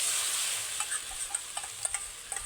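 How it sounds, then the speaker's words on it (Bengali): Water pours into a hot pan of spiced sauce-based gravy for chilli Maggi noodles, giving a steady bright hiss and sizzle with a few light clicks of stirring, close and fairly quiet, no voices. "এইবার জলটা দিয়ে দিচ্ছি।"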